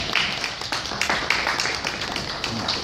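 Audience applause at a US Africa Leadership Conference, a dense patter of clapping hands rising right after a speech ends, steady and moderately loud with a few sharper claps on top.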